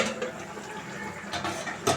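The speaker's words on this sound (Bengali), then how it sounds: "এবার ঢাকা খুলে দেখা যাক কতদূর হলো।" A pot lid lifted off a simmering pan of rui fish head cooked with pui shak, giving a couple of short metallic clinks over a soft bubbling, watery background.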